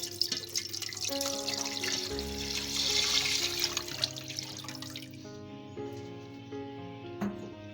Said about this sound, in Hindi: अभी पैन में दूध ऐड करूँगी